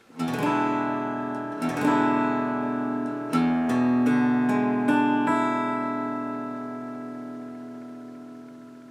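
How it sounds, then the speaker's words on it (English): An E7th chord is strummed on guitar and left to ring, then strummed again several times, each strike sustaining and slowly fading out. "I want to show you a new way to play the E7th chord"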